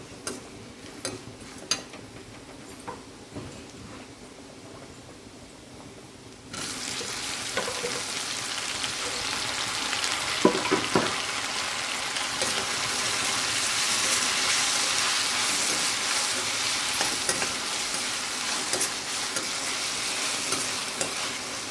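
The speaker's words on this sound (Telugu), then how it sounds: "ఆనియన్స్ అయితే బాగా ఫ్రై అయిపోయాయి ఇప్పుడు ఈ టైంలో టమాటాలు వేసేసుకున్నాం" Onions and tomatoes frying in a pan for Nellore fish curry, a soft sizzle with occasional utensil ticks that turns into a louder, fuller hiss about a third of the way through and then holds steady.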